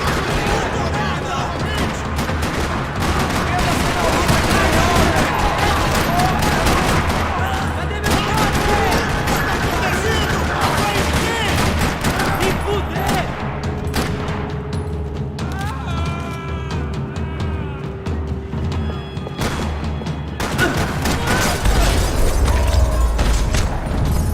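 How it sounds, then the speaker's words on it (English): Gunfire rattles through a parking lot in the video game Max Payne 3: loud sustained bursts and booming shots over about twenty-four seconds, mixed with voices, music and game effects, ending in a heavy low impact. "Another parking lot rattling with gunfire"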